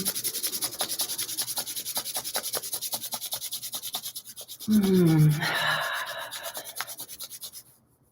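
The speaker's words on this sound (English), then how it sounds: "Rub your hands together." Hands rubbing briskly together in a quiet meditation setting, a steady rhythmic swishing that pauses briefly and then resumes more softly before fading out.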